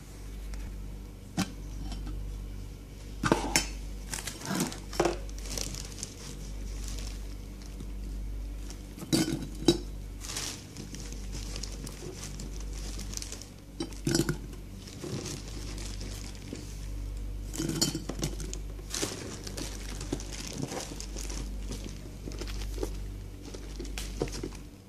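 Dates being put into a glass jar, with scattered soft clinks, taps and crinkly rustles spread irregularly over a quiet indoor background hum.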